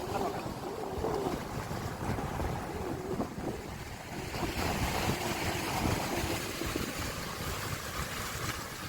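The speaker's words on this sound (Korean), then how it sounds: "밀려옵니다, 파도가." Ocean waves rolling ashore on Bogildo island, a continuous washing surf with steady broadband rush and gusty wind noise, fairly close and unbroken throughout.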